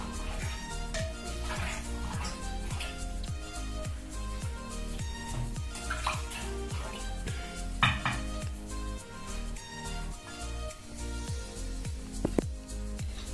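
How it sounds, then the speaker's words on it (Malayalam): Grape wine mixture being stirred in a pot, with steady repeated scraping and clinking strokes of a spoon against the container, close and fairly loud, alone without speech. "എന്നിട്ട് ഇത് നന്നായിട്ടൊന്ന് ഇളക്കി കൊടുക്കണം"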